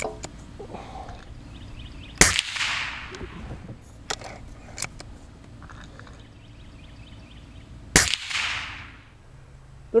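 Two sharp cracks of a Gamo Hunter Extreme .177 break-barrel air rifle firing PBA alloy pellets, each a loud snapping report with a brief hissing tail, spaced several seconds apart with faint clicks and handling noise between.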